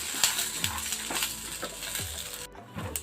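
Peanuts frying in a little oil in a pan for chutney, a soft sizzle broken by repeated spoon scrapes and clinks against the pan, close and unaccompanied by talk.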